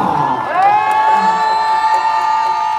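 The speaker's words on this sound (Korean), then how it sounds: "여러분들 큰 박수 주시길 바라겠습니다" Crowd at a street demonstration for Yoon in Korea cheers and whoops loudly for a brief moment, a dense burst of voices with a rising shout.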